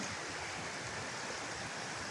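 Floodwater from a swollen creek surging over its banks toward houses during a heavy storm, a steady, dense roar of rushing water with no breaks, loud and close throughout.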